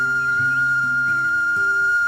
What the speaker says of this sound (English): The whistle is blowing.